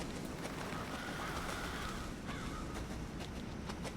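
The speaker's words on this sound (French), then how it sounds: "Les corbeaux, c'est pas du tout une ambiance flippante." Ambience from Resident Evil 7 carries a few crows cawing at a distance over a steady low background hiss, faint and irregular, with no voices.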